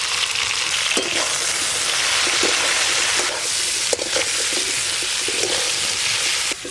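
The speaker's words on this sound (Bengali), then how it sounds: "আলু আর কেটে ধুয়ে রাখা কচু একসঙ্গে ভেজে নেব।" Chunks of potato and washed, cut taro fry together in hot oil in a pan, giving a continuous loud sizzle with occasional sharp crackles and stirring scrapes, and no talk.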